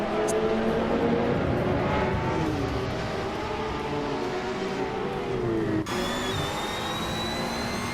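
A 1997 Panos Esperante GTR racing in a video game, its engine droning loud and steady with a rising then falling whine, shifting abruptly near the end to a higher, thinner tone as the view changes.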